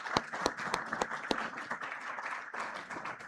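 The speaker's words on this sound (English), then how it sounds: "give a round of applause very warmly for everyone who is here" An audience at a Nigeria-EU business forum applauds steadily throughout, a dense wash of many hands clapping with a few sharper nearby claps standing out.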